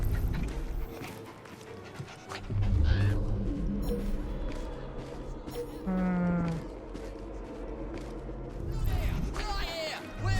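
A dog pants and whimpers in Assassin's Creed Syndicate, heard under characters' conversation and busy Victorian street ambience with scattered clatter and thuds.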